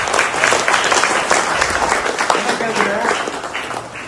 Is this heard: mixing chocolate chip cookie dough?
no